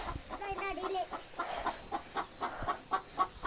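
Farmyard chickens clucking in a series of short, repeated calls at close range, with a rooster-like drawn-out note near the start, moderately loud and without speech.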